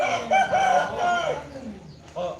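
A rooster crows nearby in a rural village of the Oy ethnic group in southern Laos, one drawn-out crow followed by a shorter call, with some faint background voices.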